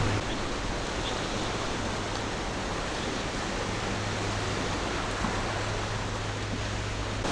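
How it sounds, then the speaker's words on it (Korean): Waves roll steadily along the East Sea coast on a breezy day, a dense continuous wash of surf heard up close with no pauses and no voices. "동해바다의 경쾌한 파도 소리를 들으며 걸을 수 있었습니다"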